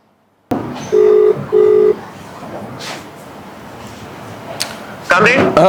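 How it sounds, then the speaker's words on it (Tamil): An outgoing phone call rings through, with two steady electronic ringback tones in a row over faint room noise, followed a few seconds later by a voice on the line. "நான் அவருக்கு ஃபோன் பண்ணுறேன்."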